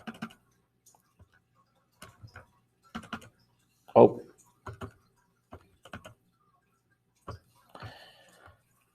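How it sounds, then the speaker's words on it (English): Sparse clusters of key presses on a calculator keypad, clicks in short bursts separated by pauses, with a few quiet spoken words mixed in. "I'm typing in my calculator"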